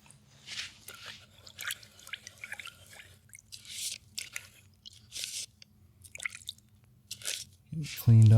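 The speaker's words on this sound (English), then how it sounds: "Clean my knife off a little bit better before I go into my liquid white." A palette knife scraped and wiped clean of oil paint, heard as a run of short, close scraping and wet smearing strokes in uneven bursts, with a louder thump at the very end.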